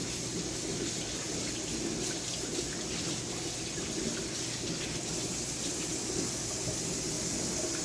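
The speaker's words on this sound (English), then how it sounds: "now I'm going to wash my hands" Hands being washed under a running kitchen tap, a steady close rush of water splashing throughout with no talking.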